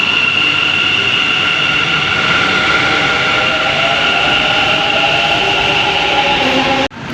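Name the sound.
Bangalore metro train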